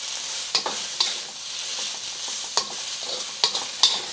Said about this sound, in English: I love the smell of ginger and onions cooking.